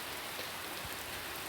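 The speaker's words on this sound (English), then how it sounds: "Well, it's raining," Steady rain falls in a continuous even hiss, close and fairly loud, with no voices over it.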